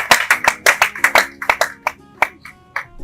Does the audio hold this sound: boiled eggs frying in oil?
no